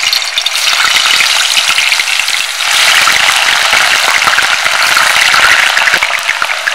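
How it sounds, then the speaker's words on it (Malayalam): Thin potato slices fry in a pan of hot oil for homemade crispy chips. A loud, continuous close sizzle surges after a brief dip as more slices go in and are stirred. "ഇനി നമുക്ക് ചട്ടിയിലേക്ക് ഇട്ട് കൊടുക്കാം."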